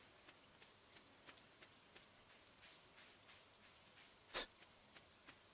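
Soft, steady rain patters throughout in Stardew Valley, a farming video game, with light drops ticking in a quiet hiss and one brief sharp bright splash near the end.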